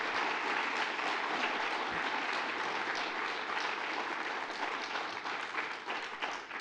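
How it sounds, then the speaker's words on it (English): Sustained applause from an audience at a Tailspin event, steady dense clapping throughout with no break. "So I want to give Colin a round of applause and thank him very much."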